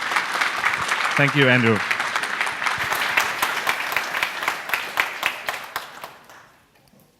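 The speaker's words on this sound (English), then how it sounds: "let's all give him a warm round of applause for the first talk of the day" Warm applause from a conference audience for a speaker at a programming talk, steady clapping that thins into scattered claps before fading out; someone briefly speaks over it near the start.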